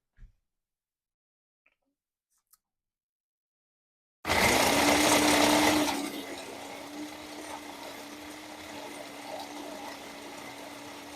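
A food processor or grinder starts abruptly and runs with a loud whirring roar, grinding carrots for pork spring roll filling, then settles into a steady, slightly quieter hum after a couple of seconds of near silence.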